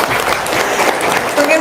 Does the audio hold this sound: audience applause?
yes